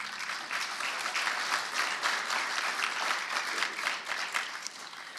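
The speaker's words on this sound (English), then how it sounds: "Can you please give yourselves a round of applause?" An audience at an academic inaugural address applauds, a sustained, even wash of many hands clapping that swells slightly and then begins to taper toward the end.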